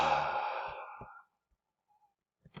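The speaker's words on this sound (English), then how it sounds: "And release as you breathe out." Slow, breathy exhalation during a progressive muscle relaxation exercise, a close, soft sigh fading out over about a second, followed by quiet and a couple of faint breath noises.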